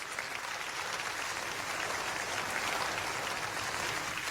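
A church congregation breaks into dense, continuous applause, a thick wash of many hands clapping at once that holds steady for the whole stretch.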